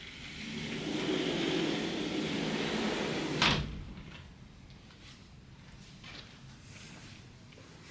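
A wardrobe door in an Armani Hotel Dubai suite in the Burj Khalifa opens with a single sharp clack midway, after which a quieter room hum continues with faint small knocks.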